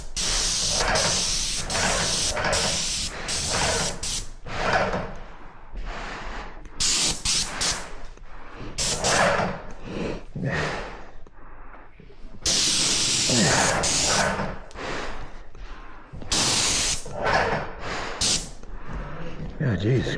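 A paint sprayer hisses loudly and close in long repeated bursts with short pauses while painting inside a house, and someone talks between some of the blasts.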